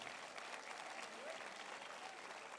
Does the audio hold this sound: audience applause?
yes